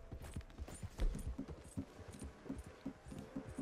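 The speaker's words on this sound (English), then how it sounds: "Aw, come on, horse. Come on, Max." Horse hooves clip-clopping in a rhythmic run in the video game Red Dead Redemption 2, fairly quiet repeated thuds in steady succession with no talking.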